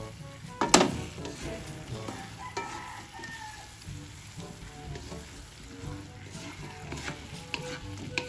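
Sliced bananas fry in hot oil in a pan with sugar for banana cue, stirred with a sharp clatter near the start, then a steady close sizzle runs throughout with occasional utensil scrapes.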